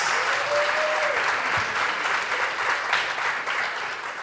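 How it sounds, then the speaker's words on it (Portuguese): Crowd applauding students at a school debate, steady dense clapping filling the room throughout, moderately loud, with faint voices underneath. "Palmas para eles!"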